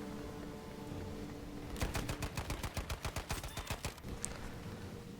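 Grease Gun submachine gun in Battlefield V firing a rapid burst of about fifteen evenly spaced shots, loud and close, over a low game ambience.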